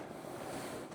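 Continuous broadband rushing water from a creek while prospecting for flour gold, steady and moderately faint with no voices.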